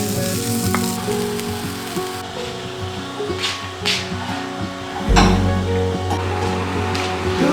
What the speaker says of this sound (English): Using that to start with first tadka and then adding sliced onions to it along with the mashed potatoes.